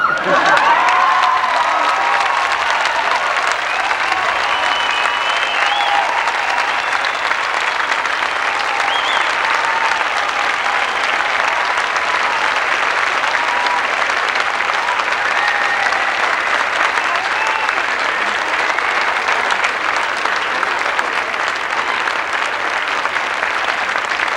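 A graduation crowd at Cal Arts in 1990 breaks into sustained applause after a speech, loud, dense clapping with scattered cheers and whoops that carries on unbroken for over twenty seconds.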